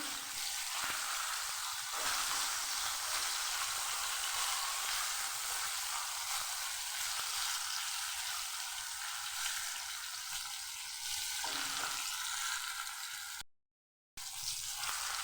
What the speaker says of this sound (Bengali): ইলিশ মাছ ভাজতে বেশিক্ষণ লাগে না, খুব তাড়াতাড়ি ভাজা হয়ে যায়।